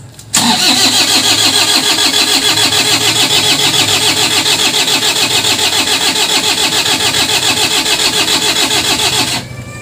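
A Toyota Hiace Commuter 2.5 engine with a failed timing belt cranks continuously for nearly ten seconds without catching, a loud, rapid, rhythmic starter churn that stops abruptly at the end.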